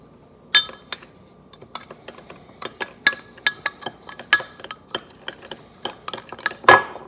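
A spoon stirs a salt and pepper brisket rub inside a quarter-cup measuring cup, giving a steady run of light, close clinks and taps against the sides with no talking.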